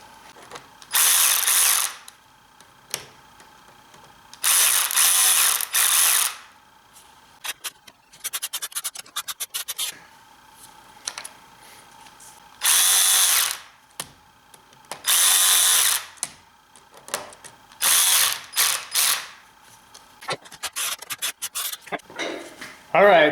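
Power tool with a bit driving bolts on a BMW N20 engine during valvetronic eccentric shaft work: a series of loud, close whirring bursts of a second or two each, separated by quieter handling clicks and brief talk.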